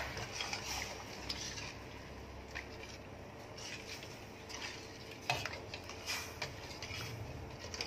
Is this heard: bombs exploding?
no